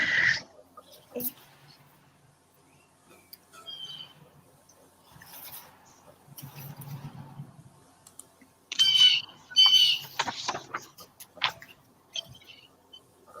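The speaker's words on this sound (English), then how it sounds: "Alex, I hear the birds behind you." Birds chirp intermittently in the background, with a burst of bright twittering near the end, over faint voices and light clicking.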